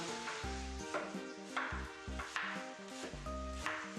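Chicken thighs and leeks sizzle steadily in a frying pan while music plays over it, the frying a constant crackling hiss beneath the rhythmic tune.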